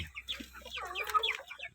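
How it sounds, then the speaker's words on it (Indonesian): A KUB local crossbred hen, a breeding stock bird, gives a short, faint burst of clucking up close. "ayam KUB, ayam lokal yang peternak-peternak kita silangkan"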